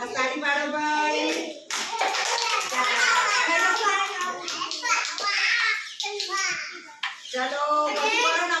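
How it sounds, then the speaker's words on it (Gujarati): Young children clapping their hands in a group, the claps mixed under a voice speaking almost continuously and children's voices close by. "સરસ તાળી પાડો ભાઈ"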